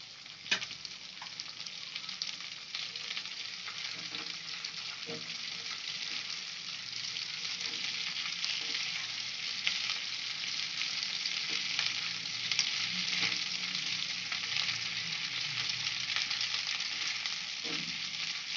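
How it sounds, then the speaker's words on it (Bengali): Butter melts and fries in a pan with crushed ginger and green chilli for a no-onion, no-garlic paneer curry, giving a steady close sizzle with soft stirring scrapes throughout. "এটাকে একটু নাড়াচাড়া করবো। বাটারটাও মেল্ট হয়ে যাচ্ছে।"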